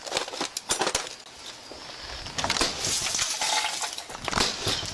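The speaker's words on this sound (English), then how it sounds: "Oh, they're breaking out every damn window in this RV." Windows of an RV being smashed out: sharp cracks of breaking glass come in quick bursts, then a jangling clatter of shards, fairly close and loud, with no talking.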